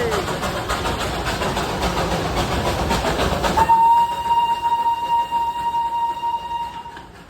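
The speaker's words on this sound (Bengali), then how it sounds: "দেখো গাইস, টয় ট্রেন যাচ্ছে।" Darjeeling toy train passing close by: a loud rolling rumble of wheels and carriages, then a long sustained horn blast that holds to the end.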